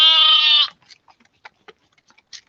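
A month-old lamb on a farm gives one loud, close, sustained bleat of about two-thirds of a second, followed by faint scattered rustles and small knocks.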